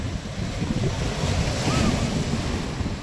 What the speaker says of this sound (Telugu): ఒకసారి ఈ సముద్రపు అలలు చూడండి ఎలా ఎగిసి ఎగిసి పడుతున్నాయో